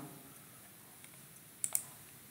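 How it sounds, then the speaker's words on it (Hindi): A computer mouse clicks the Next button during a job-site signup, two quick close clicks near the end after a faint tap, over a quiet room hum. "यहाँ पे मैं नेक्स्ट के बटन पर क्लिक कर दूंगा"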